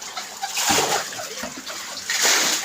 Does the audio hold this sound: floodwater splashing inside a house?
yes